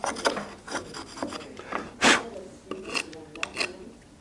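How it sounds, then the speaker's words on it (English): A chisel pares wood while cutting a housing joint, heard as close, uneven rasping strokes with one longer, louder scrape in the middle and no voices. "Learning how to chisel accurately and carefully is a really, really good technique"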